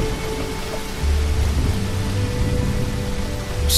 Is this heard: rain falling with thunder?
yes